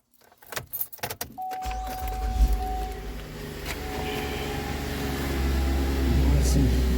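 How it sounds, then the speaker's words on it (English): A 2017 Chevrolet Traverse starts up after a few key jangles and clicks, a chime tone sounding as the engine catches and settles into a steady, close idle rumble that grows slightly louder. "Turn on the car."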